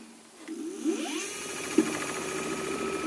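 An e-bike motor spins up with a rising whine that climbs in pitch and then holds a steady, fairly loud hum, with a brief click partway through; no one talks.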